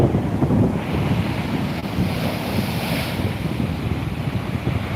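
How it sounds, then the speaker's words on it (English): Sea waves wash steadily against rock armour along the shore as the tide comes in, a loud, continuous rushing surf with heavy wind buffeting the microphone throughout. "The waves gently caressing the rock armour on the shore."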